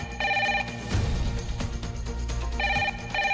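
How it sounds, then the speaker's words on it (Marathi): Telephone ringing in a home, two clear electronic ring bursts separated by a gap, loud and near, with no speech. "फोन तरी उचल."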